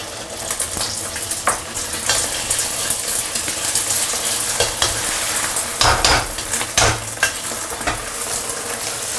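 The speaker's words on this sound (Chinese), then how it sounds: "这时候下入我们的鸡蛋" Eggs frying in hot oil in a wok, a loud bright sizzle with intermittent spatula scrapes and clanks against the metal, close up and continuous.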